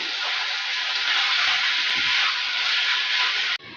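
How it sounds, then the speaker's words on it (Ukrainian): Onion and carrot frying in a pan while being stirred, a steady, loud, dense hiss of sizzling that holds evenly throughout and drops off abruptly at the very end. "Огріваю гарно, перемішую цибулькою з морквою"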